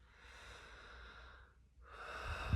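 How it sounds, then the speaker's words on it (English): A deep breath drawn in, close and airy, one long inhale, a short pause, then a second breath rising into a soft low rumble at the end, with no talking. "taking a deep breath in"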